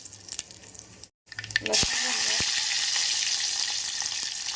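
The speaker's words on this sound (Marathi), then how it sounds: "तेल गरम झालं की आपण जिरी मोहरी घालूयात जिरी मोहरी आता लसूण घालणार आहोत फोडणीसाठी" Cumin, mustard seeds and garlic hit hot oil in a cooking pot as a tempering: a quiet start with a few knocks, then a sudden loud, steady sizzle that carries on to the end.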